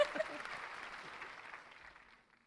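Audience applause for a performer after a set at the Music Man, a sustained wash of clapping at moderate distance that fades away over a couple of seconds.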